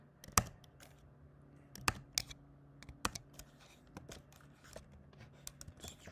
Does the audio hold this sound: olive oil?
no